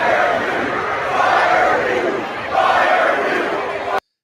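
A large stadium crowd roars and chants in unison after an Auburn loss to Kentucky, calling for coach Hugh Freeze's firing, a dense, sustained wall of voices swelling twice before cutting off abruptly.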